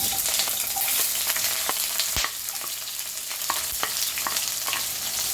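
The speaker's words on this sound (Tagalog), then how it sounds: "Dahil mainit na yung pan natin kanina bago naglagay ng mantika, ilagay na natin ang sibuyas." Onions frying in hot oil in a pan for Ilocano-style menudo, a steady dense sizzle throughout with scattered sharp crackles and clicks of stirring, fairly close and continuous, no voices.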